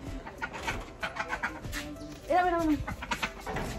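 Soft quacking from a duck amid outdoor chatter and rustling, with one clearer bird call standing out midway.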